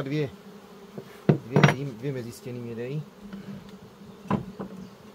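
Honeybees hum steadily around an open hive as a beekeeper adds foundation frames to a sixth super at the start of rapeseed bloom; the droning buzz fills the scene under short spoken remarks and a few clattering knocks of hive parts.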